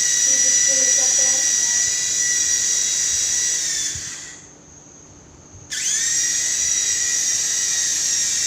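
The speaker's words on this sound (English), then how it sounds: "See this helicopter." A small toy helicopter's electric motor gives a steady, high-pitched whirring whine up close. It cuts out for about two seconds partway through, then spins back up to the same pitch.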